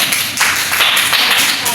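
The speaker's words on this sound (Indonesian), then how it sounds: "beri tepuk tangan kepada kelompok 1" A classroom of students applauds a presenting group with brief, brisk clapping, loud and close.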